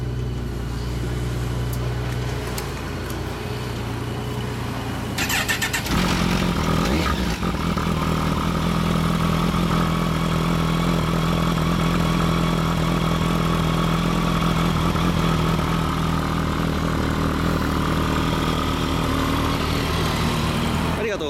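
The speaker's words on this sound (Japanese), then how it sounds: "車種は、 1400GTR です。 可愛いです。 じゃあエンジンかけてもらっていいですか。" A Kawasaki 1400GTR motorcycle engine starts up and settles into a steady, close idle, with a low continuous rumble and faint talk in the background.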